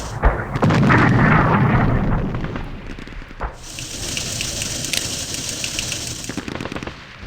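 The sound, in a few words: artillery bombardment in Operational Art of War IV video game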